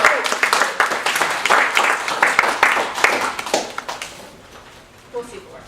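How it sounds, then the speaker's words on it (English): A crowd at a leadership lecture applauds steadily for several seconds, the clapping thinning and fading out toward the end. "Give her a big round of applause."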